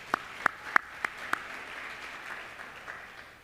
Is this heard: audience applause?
yes